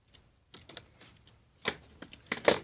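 Lego bricks on a Lego monster car model clicking together in a few quiet, sharp clicks and snaps, sparse at first and then clustered near the end, with no talking.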